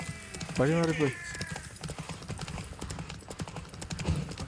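Steady clip-clop of horse hooves trotting in The Witcher 3 video game, with a brief horse whinny near the start and faint noise in the background.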